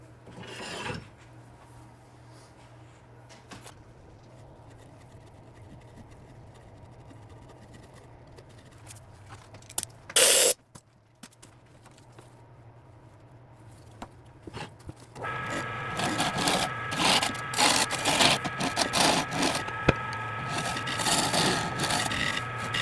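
A tool scrapes and gouges while hollowing out a log of wet, gummy unidentified wood, starting quietly with a sharp knock midway, then turning to loud, dense rasping cuts near the end.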